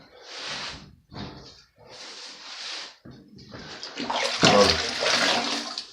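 Wet sponge wiped over freshly grouted tile with Fusion Pro grout, giving bursts of watery scrubbing and swishing strokes, louder and splashier near the end.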